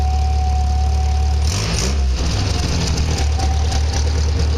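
A Triumph TR3A sports car engine runs steadily at close range, its low rumble dipping and shifting pitch midway as the gears change, with no talking.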